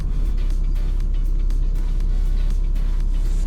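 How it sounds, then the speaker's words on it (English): Vehicle engine droning steadily while a trailer is jackknifed into a parking spot, a loud, constant low rumble close by with no one talking. "We got jackknife our trailer up into their parking spot."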